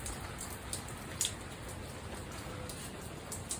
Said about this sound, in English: It's raining, baby.